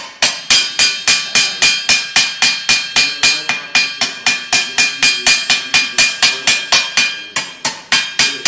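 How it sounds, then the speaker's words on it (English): Steady ball-peen hammer blows drawing out metal stock while forming a triangular roll, about thirty sharp, loud ringing strikes in an even, brisk rhythm, each with a short metallic decay, no talking. "And I guess I'll use the ball hammer. I'm just gonna draw it out."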